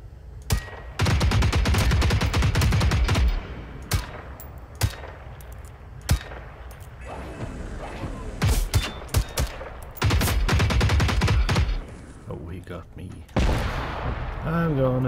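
Rocket launcher fire and explosions in the Generation Zero video game, loud sustained blasts and rumbling bursts alternating with sharp single shots, with a voice speaking briefly between them.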